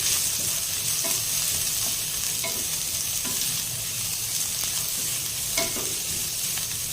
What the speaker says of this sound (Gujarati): અને કોબી આ બધું ઉમેરી આપણે તેને સારી રીતે મિક્સ કરી લઈશું